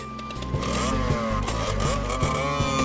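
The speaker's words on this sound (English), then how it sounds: "Even the sound of exhaust, Fujini disappears like a bullet" Motorbike engine in the Fate/Stay Night visual novel game, revving loudly and climbing in pitch through several gear shifts as it speeds off, close and continuous with no voices.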